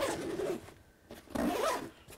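A pocket on a Kifaru Stryker backpack zipped shut in two quick close rasping pulls, separated by a brief pause, with no talking.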